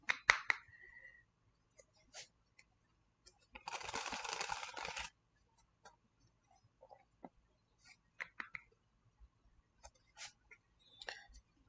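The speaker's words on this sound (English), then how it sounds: "I probably shouldn't shuffle cards. You're going to hear that" A short burst of riffled playing cards, a dense rattling flutter lasting about a second and a half, amid sparse clicks and quiet movement.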